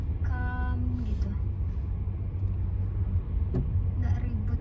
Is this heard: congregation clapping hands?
no